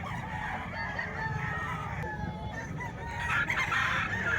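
A rooster crows amid the bustle of a Friday chicken market in Bukawi, its call rising clearly over a steady background murmur of market noise, with a louder burst of activity near the end.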